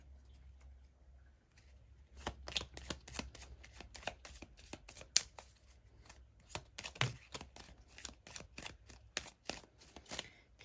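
Tarot cards shuffled and handled by hand at close range, irregular crisp flicks and snaps in loose bursts over a quiet background, some sharper slaps among softer riffles, no talking.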